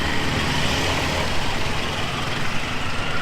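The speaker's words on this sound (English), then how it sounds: "Another tuk-tuk." A tuk-tuk motors past on a Phnom Penh street, its engine a steady, fairly loud rumble amid constant road traffic noise lasting a few seconds.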